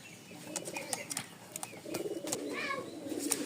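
Rajshahi Giribaz pigeons cooing in a loft, soft repeated coos and chirps from several birds at close range over a faint background.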